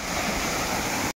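A waterfall's rushing water roars as a steady, loud, broadband wash that stays close and unbroken, then cuts off abruptly.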